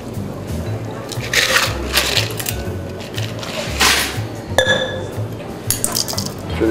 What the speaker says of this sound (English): Make sure it's all nice and mixed together, and strain it into the old-fashioned glass.